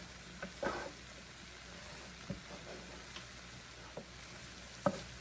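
A beaten egg setting in a pan for stir-fry and fried rice, a soft low sizzle broken by a few sharp clicks and taps of a utensil stirring it, close and quiet.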